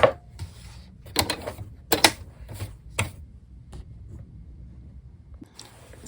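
A sewing machine runs in bursts while a tablecloth is stitched, giving rapid mechanical clattering runs separated by pauses, fairly close and moderately loud.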